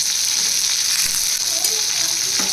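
Onions frying in hot oil with curry leaves give a steady, bright, dense sizzle that stays even and close throughout the short stretch.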